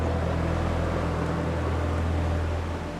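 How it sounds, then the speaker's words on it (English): A steady, droning boat engine roar at sea, approaching and growing louder, continuous and fairly even in loudness, with no voices. "I heard the roar of a boat again. It's getting louder."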